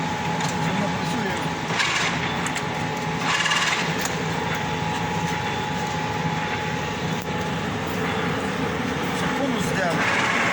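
An FT-11F1 lathe cutting a thread runs with a dense, steady mechanical whir and rattle, loud and close, with short brighter bursts of cutting noise and voices talking over it.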